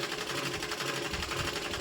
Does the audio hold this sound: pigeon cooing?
no